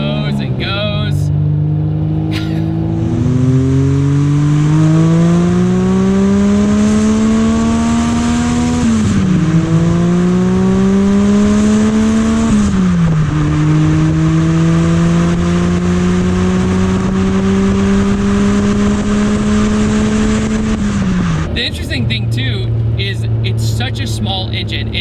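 A Suzuki Cappuccino with a 660 cc engine, under way on the road, revs up loud and close through several rising gear pulls with brief dips at the shifts, then settles to a lower hum while a person talks.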